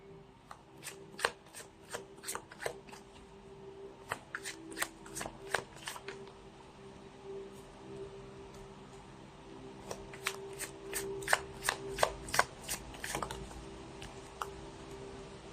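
A deck of tarot cards is shuffled close by, crisp rapid riffling and snapping bursts repeating in several rounds over a quiet room, fairly soft, with no talking.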